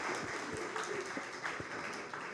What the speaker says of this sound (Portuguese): Palmas para elas duas.